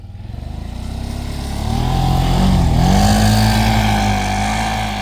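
A Can-Am Outlander 1000 XTP ATV on Apache tracks climbs through deep drift snow with the throttle pinned, its engine rising from a loud idle into a sustained, roaring high-rev drone up close.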